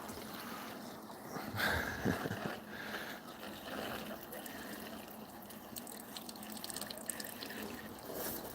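Water trickles and drips while potted strawberry plants are watered at a table indoors, a soft steady splashing with a brief louder pour early on, close and fairly quiet.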